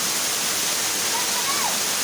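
Steady roar of the Asurajhula waterfall, a dense, close wash of falling water that stays even throughout, with a faint thin whistle rising briefly above it near the end.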